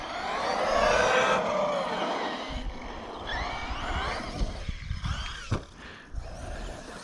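A Ming Yang Black Panther RC plane on a 4S battery comes down hard in grass, its electric motor whining loudly at first, then fading into scattered thumps and rustling.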